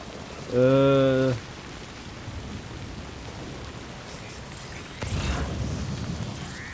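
Rain falls steadily in the Death Stranding video game, a constant hiss of downpour that grows heavier toward the end, with a brief sustained tonal hum early on.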